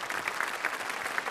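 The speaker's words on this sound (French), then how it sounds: "Applaudissements pour cette belle synergie." An audience applauds at an inaugural evening event, a dense, continuous patter of many hands clapping at moderate loudness, steady throughout with no speech over it.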